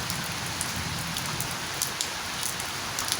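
Rain falls steadily in front of a meditation hermitage, a close, continuous patter with scattered sharper drops striking surfaces.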